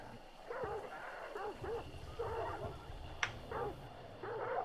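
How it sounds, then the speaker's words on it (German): Triggered dogs in the Hunt Showdown video game bark repeatedly at a moderate distance, several separate volleys of barks and yips over a steady low background rumble, with one sharp click in between. "Wir hatten die Hunde jetzt getriggert."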